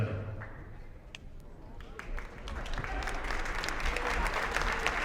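A crowd at a high school girls' basketball game applauds steadily for veterans and military personnel, the clapping swelling and growing denser over several seconds, with some murmuring voices mixed underneath.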